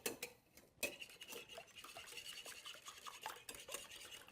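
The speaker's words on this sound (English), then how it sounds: "So we have our 4 whole eggs that we're going to put into the bowl. We're going to whisk those up" A whisk or fork beats four whole eggs in a bowl, giving a quiet, continuous rapid clicking and scraping against the bowl, with no talking.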